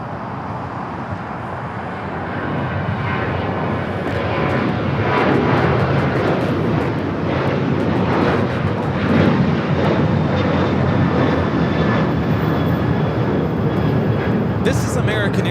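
An American Airlines Boeing 737-800 takes off from Los Angeles for Los Cabos, its jet engines swelling from a moderate rumble into a loud, sustained roar that stays close and strong, with background voices.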